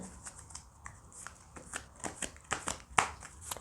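Tarot cards being shuffled by hand, a run of quick papery riffles and soft slaps, close and fairly quiet, with no talking.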